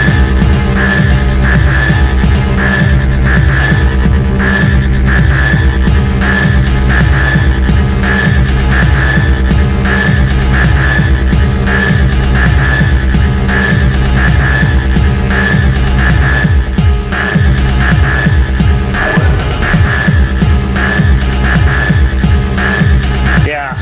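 A Modor DR-2 drum machine plays a throbbing, resonant kick in a steady loud pulse, fed through a Lyra 8 delay that smears each hit into a continuous humming drone.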